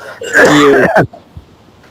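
A single loud, rough cough close to the microphone during an Islamic religious lecture, rasping for under a second before falling quiet.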